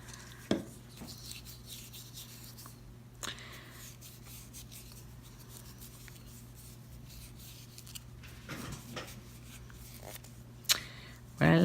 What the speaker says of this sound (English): let's wipe these off here and get to filing